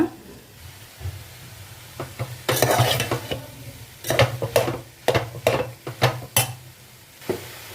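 Carrot and fenugreek curry is stirred in a pan, a spoon scraping and clattering in a series of sharp, close strokes over a low background sizzle, with the strokes growing more frequent toward the end.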